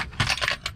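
Metal Allen keys spill from an opened hex key set, a quick close burst of bright jingling clinks and clatters in several short clusters.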